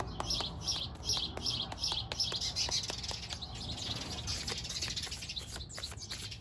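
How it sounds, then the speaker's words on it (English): Birds chattering while building a nest nearby, a steady stream of close, rapid chirps and tweets over a constant outdoor hiss. "the birds are building a nest right beside me. That's what all that chatter is about."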